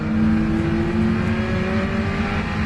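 Caterham Supersport race cars run at the Snetterton circuit, a steady, loud engine drone with a sustained whine holding across the whole stretch and no voices over it.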